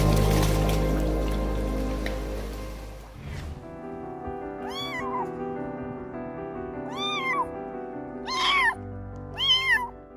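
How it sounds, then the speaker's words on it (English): A homeless kitten meows loudly for help, four or five pleading cries spaced a second or two apart over a steady humming background, the last ones loudest. "this little homeless kitten loudly cried for help"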